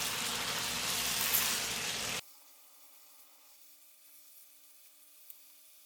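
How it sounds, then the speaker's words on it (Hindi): Chicken frying in a pan for butter karahi, a dense broadband sizzle that runs loud for about two seconds and then cuts off abruptly, leaving only a faint low hum. "अब चिकन को अच्छी तरह से भूनेंगे।"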